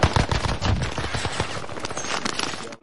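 Rapid automatic gunfire rattles in quick, dense bursts at close range, loud and continuous for a few seconds before cutting off abruptly.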